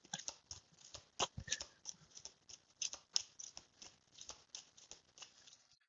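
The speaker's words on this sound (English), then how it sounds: "shuffle these cards a lot. I want to just make sure we really get a good shuffle on these." A deck of tarot cards is shuffled at close range, giving a long, steady run of quick crisp riffling taps and slaps with no voice over them.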